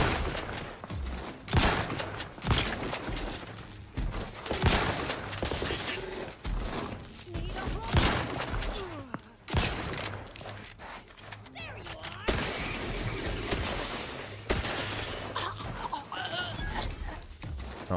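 Gunfire from a mech in the shooter game The Outer Worlds 2, repeated bursts and volleys cracking in clusters across the scene, loud and fairly close, with a person talking in between.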